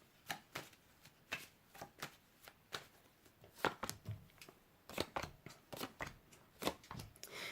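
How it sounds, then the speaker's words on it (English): Tarot cards dropped and handled during a reading, a quick series of close, crisp slaps, flicks and shuffles in irregular bursts. "I'm just dropping my cards everywhere"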